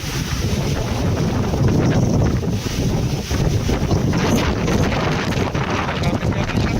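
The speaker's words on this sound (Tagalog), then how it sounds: "Hangin." Strong typhoon wind roars steadily and loudly across the microphone, a continuous gusting rush that never lets up, with a short dip partway through.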